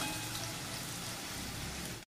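Leftover chapati pieces roasting in a pan give a steady, dense sizzling crackle that stays even and close throughout, then stops abruptly.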